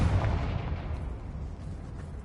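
The Confringo fire spell is cast in the game Hogwarts Legacy, giving one heavy, booming blast at the start that fades into a rumbling, crackling tail.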